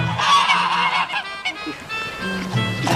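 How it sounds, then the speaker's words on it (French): Geese honk loudly and repeatedly as they are fed, several birds calling over one another close by in a steady, overlapping chorus with no talk. "On nourrit les oies en compagnie de Barbara"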